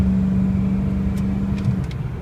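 A 2006 Ford F250 4x4 diesel truck idles with a steady low, even rumble close by, a constant engine drone that barely changes across the moment.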